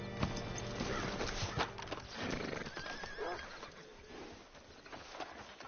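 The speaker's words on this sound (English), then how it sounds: "Hitch your horse up here." A horse in Red Dead Redemption 2 whinnies loudly up close with a few hoof clops, then snorts and shuffles more quietly.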